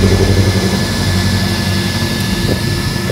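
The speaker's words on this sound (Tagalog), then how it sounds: "Tapos ayun, lakas ng pan." Two small electric fans cool an e-bike controller, producing a loud, steady whirring drone with a constant high whine, heard up close with no pauses.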